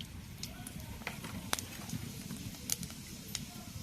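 Panch phoron spices sizzle in hot mustard oil in a wok, a quiet, steady crackle with scattered sharp pops and spits.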